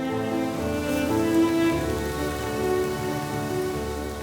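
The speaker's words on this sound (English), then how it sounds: "Okay, so unfortunately it started to rain." Rain falls in a forest park beside a lake in France, making a steady, fairly loud patter on the surrounding surfaces, with a faint low hum underneath and no one talking.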